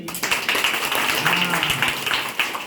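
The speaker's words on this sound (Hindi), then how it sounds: "बच्चे लोग एक जोर से ताली बजाइए।" Children clapping loudly together in a room, a fast, dense patter of many hands that carries on steadily for a few seconds, with a voice speaking over it.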